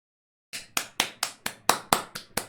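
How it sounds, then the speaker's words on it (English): One person claps for Darius after a short silence, giving nine sharp, evenly spaced claps, close and crisp, roughly four per second with no talk. "Let's clap it up for my boy Darius, bro."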